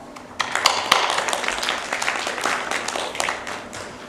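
Conference audience applauding, a dense, fairly loud patter of many hands clapping that starts within the first half second and carries on steadily to the end.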